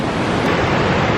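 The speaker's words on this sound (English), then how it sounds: "Waterfall behind." A waterfall rushes at Arthur's Pass in the New Zealand mountains, a loud, dense roar of broadband noise with wind buffeting the microphone, and no voices.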